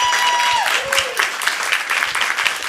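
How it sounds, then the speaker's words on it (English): At a board of education meeting, the audience applauds students who earned perfect state assessment scores. Steady, fairly loud clapping continues throughout, and a faint falling tone sounds briefly near the start. "Let's give them a round of applause."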